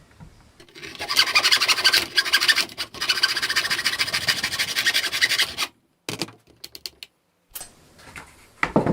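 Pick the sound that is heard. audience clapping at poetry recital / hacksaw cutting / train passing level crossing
hacksaw cutting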